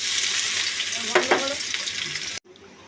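Dried red chilli, nigella seeds and chopped onion frying in hot oil give a steady close sizzle with a couple of sharp spatters near the middle, then the sound cuts off abruptly to a faint low hiss.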